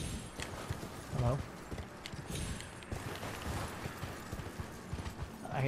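Rhythmic hoofbeats of a horse clip-clopping at pace in the video game Elden Ring, moderately loud, with a few brief voice sounds mixed in.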